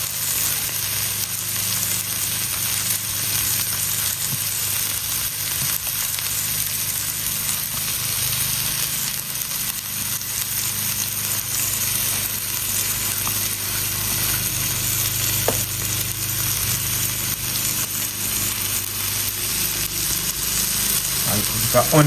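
Green peppers and onion fry in a pan, a loud continuous sizzle and crackle that stays steady throughout, with a low hum underneath and no clear talk.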